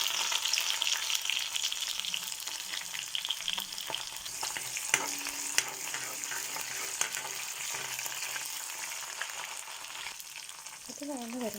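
Crushed garlic, ginger, shallots and green chilies sauté in a hot pan for a spicy sardine curry, a dense steady sizzle with occasional scraping stirs, close up and without speech.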